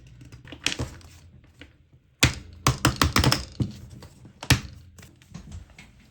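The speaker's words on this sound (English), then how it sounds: "let me try to slide this off" A vegan leather cover being slid off a Citrine A5 planner gives a series of close, sharp taps, thunks and rustles, bunched irregularly with a busy stretch in the middle.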